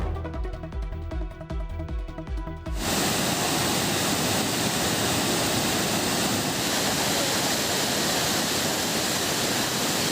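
Hogenakkal waterfall roaring in a dense, continuous rush where tourists bathe. It sounds loud and steady after a short musical opening.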